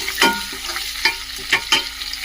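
Onions fry in a pan for a gongura and dried prawn curry, with a loud close sizzle and four sharp spatula strokes scraping across the pan at roughly half-second intervals.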